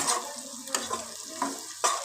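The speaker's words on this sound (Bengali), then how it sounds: "সবজিটাকে ভাজা করে নিচ্ছি" Vegetables such as potato, cauliflower, carrot, beans and capsicum fry in a wok with salt and sugar, giving a soft sizzle under scraping stir strokes and a few sharp utensil knocks, close and moderately loud.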